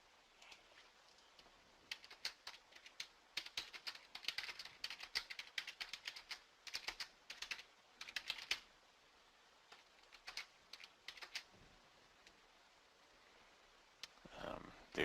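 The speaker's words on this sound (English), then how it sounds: "Here, I'll type it in for you." Typing on a computer keyboard produces faint, sporadic clusters of key clicks in irregular bursts, quieter stretches between, with a louder knock near the end.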